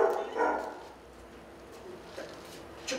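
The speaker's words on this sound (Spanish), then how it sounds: "Ojalá ladraran así cuando me roban las gallinas" Dogs barking at a rural farmyard, a few distant barks and yips early on, fading into quieter background noise with faint later yaps.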